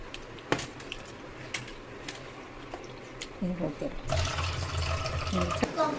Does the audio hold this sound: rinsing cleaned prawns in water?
yes